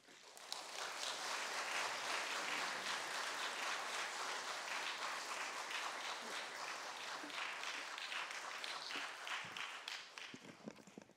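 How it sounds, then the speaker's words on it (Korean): A church congregation applauds steadily during a Sunday service, a dense wash of clapping that carries on for several seconds before thinning out. "우리가 박수로 환영하겠습니다"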